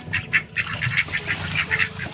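Ducks quacking in a rural yard, a steady run of short nasal calls repeating at close range over low background noise.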